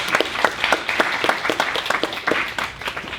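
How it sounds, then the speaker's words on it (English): Light, sparse clapping from a town hall meeting audience, a polite golf clap with distinct individual claps in a loose uneven rhythm. "can I give you a little golf clap on that?"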